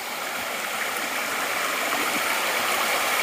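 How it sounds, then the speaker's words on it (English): Bully Brook on the Appalachian Trail rushing over rocks, a steady broadband wash of flowing water that holds even and fairly close throughout, with no voices. "This has gotta be Bully Brook."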